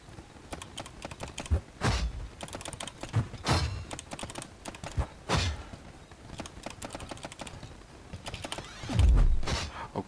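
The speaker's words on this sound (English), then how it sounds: "You can probably hear my keyboard to be tapping away in the background." Rapid keyboard typing on a computer keyboard while playing a pixel-art typing game, with irregular bursts of clacking keys and a few heavier thumps, close and fairly loud, with no talking.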